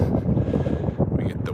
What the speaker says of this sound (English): Sorry if you guys are getting a lot of wind here.